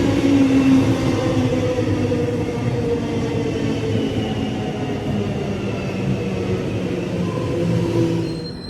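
A train rumbles past steadily in Melbourne, a loud continuous low roar of wheels and carriages with faint metallic ringing, swelling slightly toward the end.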